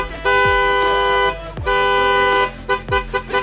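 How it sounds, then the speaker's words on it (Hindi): A Need for Speed musical horn fitted to a Skoda Slavia blares a multi-tone tune in three long sustained blasts, then a run of short staccato toots, loud and close. "उसमें हमने लगाई है नीड फॉर स्पीड की हॉर्न"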